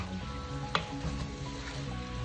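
Jackfruit sautés in a pan with a low steady sizzle, and one sharp utensil tap is heard against the pan as it is stirred.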